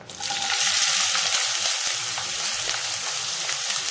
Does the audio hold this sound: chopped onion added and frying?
yes